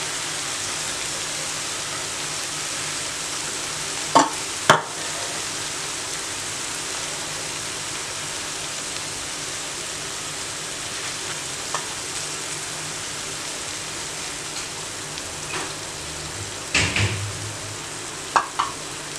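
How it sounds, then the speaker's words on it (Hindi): Eggs frying on a tawa for an omelette, a steady soft sizzle and hiss throughout with a few sharp clicks and taps from the pan at intervals. "अब आपने बारी बारी अंडे तोड़ के ऊपर डाल देने इस तरह से।"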